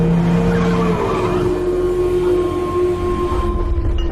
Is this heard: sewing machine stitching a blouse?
no